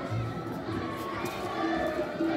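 School children cheer and shout during a Dashain celebration at Anupam Vidyasadan school, a dense, steady crowd din of young voices with chatter mixed throughout.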